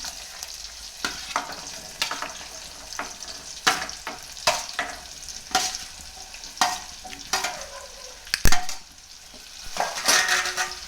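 Bitter gourd frying in hot oil with green chilies, tomato, turmeric and cumin, giving a bright, continuous sizzle broken by sharp clanks and scrapes of a spoon stirring the pan up close.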